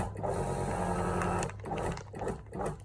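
A Premium Pro 3000 professional vacuum sealer pumps steadily in progressive suction mode, its motor humming loudly and continuously up close before the sound turns more uneven and pulsing toward the end.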